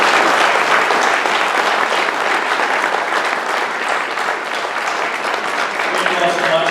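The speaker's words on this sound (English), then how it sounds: "please give everyone a round of applause" Loud, sustained applause from the audience at a Redding Chamber of Commerce county supervisor candidate forum, dense clapping holding steady for several seconds with a faint murmur of voices underneath.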